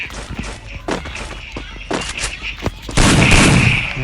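Gunfire in the Free Fire video game comes as sharp shots in quick bursts, then turns into a louder, denser stretch of shooting at the end. A player's voice talks in between the shots.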